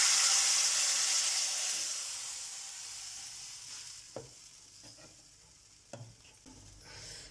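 Cumin tempering poured into kadhi pakora curry, a loud hissing sizzle that gradually fades, followed by a few soft clinks and stirring knocks.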